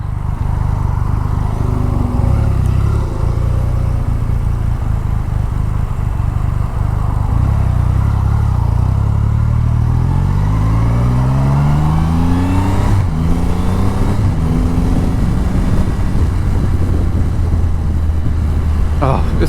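A Triumph Rocket 3 motorcycle with its 2,500 cc engine rides steadily, a loud continuous engine drone rising and falling in pitch through gear changes, with wind noise throughout.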